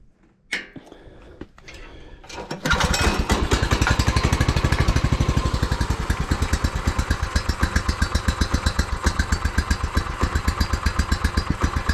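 A beater go-kart engine fitted with a swapped carburetor is pulled a few times, then fires and settles into a steady, loud, rapidly pulsing low idle, running alone close by.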